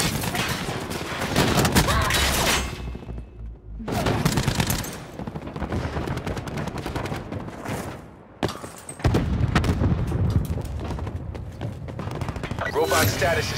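Heavy automatic gunfire and bursts of rifle fire pound a robot during a Payload match in Black Ops 4 on Xbox One, dense and loud with short gaps, with game voices speaking over the shooting.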